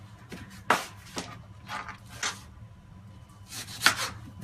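A knife chops onions into strips about one to one and a half centimetres wide on a cutting board, making a handful of sharp, separate near taps spaced irregularly over low background noise.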